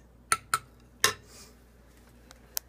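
Utensils clinking against a bowl while ingredients are mixed in a home kitchen: a few sharp, separate taps and clinks spread unevenly over a quiet background, with no talking.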